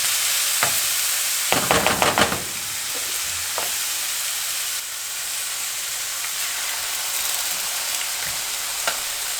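An egg sizzles in a pan for cabbage rice, a steady hissing fry with a few brief scraping stirs near the start.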